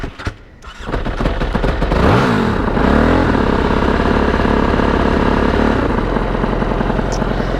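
An Aprilia RXV450 motorcycle engine cranks and catches after a brief quiet gap, revs once, then settles into a steady, loud, close-up idle that runs unbroken to the end.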